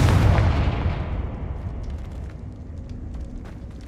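A Confringo blasting spell in Hogwarts Legacy bursts in a loud booming explosion that decays into a fading rumble over a few seconds.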